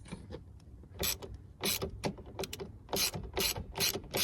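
A ratchet turns out a T25 screw inside a Vauxhall Zafira B cabin, giving close, quiet bursts of rapid pawl clicking in several short spurts with brief pauses between them.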